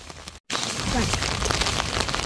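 Steady rain falls during a spring-holiday camper trip, a dense, close patter on surfaces that continues without a break after a brief moment of silence.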